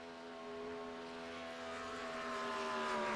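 A race car in INFRA second-round qualifying runs down the back straightaway with a steady, sustained engine drone that swells slightly toward the end, heard alone.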